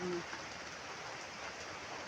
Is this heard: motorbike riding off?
no